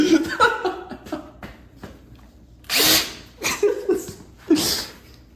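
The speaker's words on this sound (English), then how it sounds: "we're drilling pilot holes at the moment" A power drill whirs in several short bursts drilling pilot holes for a front splitter on a Mk8 Volkswagen GTI, close by, with brief pauses between runs and some faint background voices.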